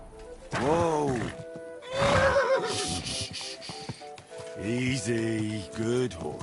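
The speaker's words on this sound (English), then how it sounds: "Easy, good horse." Horse neighs in Kingdom Come: Deliverance II, several loud whinnies close by with falling pitch, amid hoof thuds and clatter, and a voice speaking between the calls.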